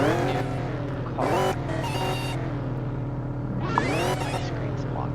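A new car in the racing game YSO roars loudly and steadily with repeated sweeping rev-ups and tire squeals layered over a droning engine, while a voice talks intermittently over the game sound.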